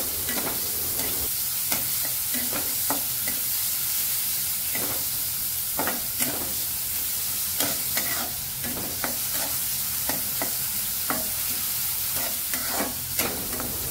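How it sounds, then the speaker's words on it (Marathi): Chopped onion sautés in a pan of cooking oil for a vegetable dish, a steady close sizzle and hiss running throughout, broken by frequent scraping strokes of a stirring spoon. "छान आता कांदा परतून घेणार आहे।"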